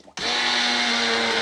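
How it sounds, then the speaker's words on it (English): A small blender kicks on abruptly after a brief quiet moment and runs steadily, blending tomatoes and garlic for a Sicilian tomato sauce with a loud, even whir and a constant motor hum. "So I've got a little blender here, and I'll blend this all together."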